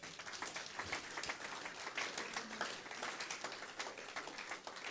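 A church congregation applauds steadily at a French-language service, dense sustained clapping from many hands filling the room with no pause throughout.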